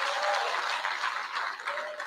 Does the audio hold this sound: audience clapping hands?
yes